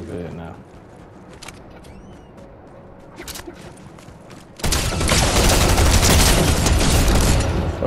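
Dense, loud bursts of automatic gunfire erupt from a Fortnite Zero Build match, preceded by quieter scattered shots and game noise before the barrage fills the second half.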